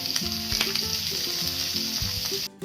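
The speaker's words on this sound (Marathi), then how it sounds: "मिरच्या आणि कढीपत्ता. त्याच्यामध्ये कांदा घालायचा आणि तोही छान परतून घ्यायचा." Onion with green chillies and curry leaves sautéing in oil for batata matar pohe, a steady close sizzle with quick stirring scrapes, cutting off briefly near the end.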